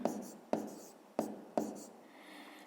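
A pen writes numbers by hand on paper while working a fifth-grade maths exercise, four distinct scratchy strokes roughly half a second apart, close and quiet.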